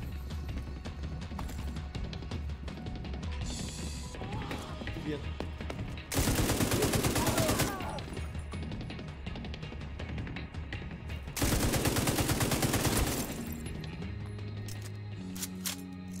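Gunfire in the video game Tom Clancy's The Division 2: two loud bursts of rapid automatic shots, each about a second or two long, stand out over a steady game soundscape.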